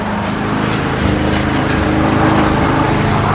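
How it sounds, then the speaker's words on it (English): Loud, steady engine drone of a lawn mower with a blower running alongside, constant and close throughout. "I really hope y'all can hear me over the lawnmower and the blower."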